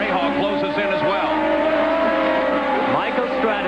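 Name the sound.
IndyCar race cars at maximum revs downshifting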